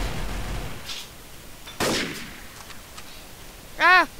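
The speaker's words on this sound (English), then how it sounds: "he shot me first" Gunshots in the Roblox game Trouble in Terrorist Town: a sharp loud blast cuts through the game noise midway, with a shouted vocal burst near the end.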